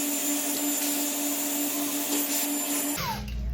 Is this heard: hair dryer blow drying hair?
yes